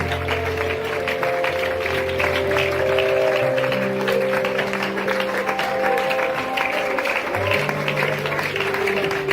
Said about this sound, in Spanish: Fuerte ese aplauso para él